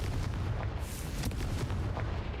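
A Confringo fire-blast spell from Hogwarts Legacy erupts in a dense, booming blast that rumbles continuously for a couple of seconds, with sharp crackling bursts layered over a heavy low roar and no talk.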